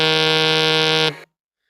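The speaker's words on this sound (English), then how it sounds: "I always have alarms set." A loud electronic alarm buzzer drones in one continuous harsh tone for about a second, then cuts off abruptly into silence.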